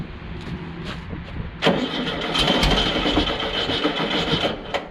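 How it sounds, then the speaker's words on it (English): An old air-cooled engine on a rail buggy sputters through a few cranking coughs, then catches and settles into a loud, rough, steady running roar close by. "Man, you can't kill these old motors"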